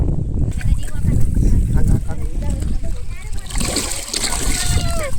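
River water splashing and sloshing near a temple town at Ramanathapura, close and fairly loud, with people, including a child, talking over the watery churn.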